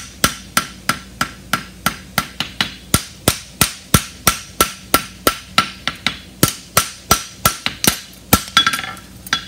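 Rapid, evenly spaced hammer blows ring out on a steel hind bar horseshoe as a farrier boxes and shapes it, about thirty sharp metallic strikes close up with a brief pause near the end.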